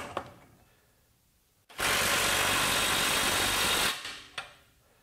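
A cordless impact wrench set to mode two fires a loud, dense rattling hammering burst for about two seconds, then stops abruptly as the tool shuts itself off, leaving faint handling clicks.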